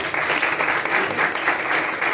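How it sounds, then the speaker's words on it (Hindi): An indoor audience at a celebration for the International Day of Persons with Disabilities claps for children, steady dense applause throughout, loud and even. "इनके सेल्फ कॉन्फिडेंस के लिए तालियां बजा दो।"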